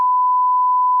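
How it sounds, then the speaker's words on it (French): A steady, loud censorship bleep tone holds unbroken for about a second, alone with no speech underneath. "je vais biper ça"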